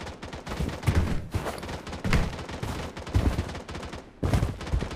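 Rapid bursts of automatic gunfire from the mobile shooter game BloodStrike on Android come in loud, dense volleys, with short gaps between them.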